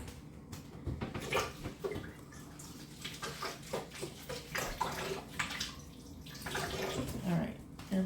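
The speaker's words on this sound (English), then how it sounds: "let me rinse my hands off real quick" Hands being rinsed under a running kitchen tap while a sweet potato casserole is made: steady splashing water with uneven gushes and drips throughout, close by.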